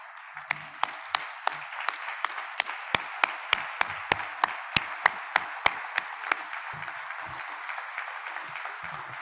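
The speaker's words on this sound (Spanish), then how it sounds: "yo les pediría un aplauso para todos ellos" A public-health event audience applauds in a hall, a soft continuous patter of many hands with a sharp, evenly spaced rhythmic clap cutting through about every half second.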